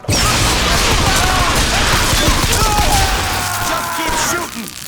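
Rapid gunfire in the video game Bioshock Infinite, loud, dense bursts of shots mixed with crashes and impacts, continuous for several seconds before easing at the end, with voices shouting over the din.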